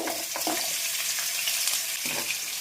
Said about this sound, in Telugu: మనం పన్నీర్ ముక్కలు వేసుకొని వేపుకుందాం నూనెలో